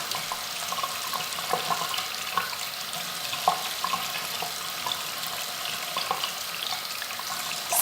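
Tap water runs steadily into a sink while makeup brushes are rinsed under it, a soft continuous splashing hiss with small irregular spatters, fairly quiet and close, with no voices.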